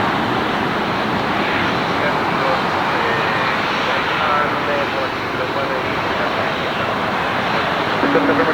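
A jet aircraft at Los Angeles International Airport, a loud steady broadband engine roar that holds without pause, close and dominant throughout.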